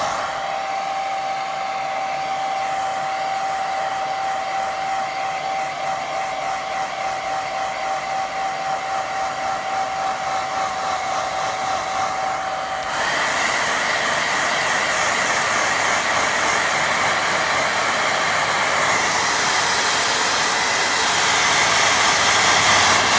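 A hair dryer blows steadily over a watercolour lake painting, a constant whooshing hum that shifts to a louder, brighter tone partway through and keeps running to the end, with no talking.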